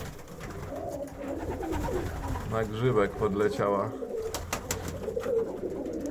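Pigeons coo softly in an aviary, a low, rolling call rising in the middle under background hum, while a person speaks nearby.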